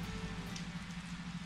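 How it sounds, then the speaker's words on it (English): Steady rain pattering on a surface in the visual novel game Kira Kira, a soft, even hiss of falling drops with no voices. "The rain continues."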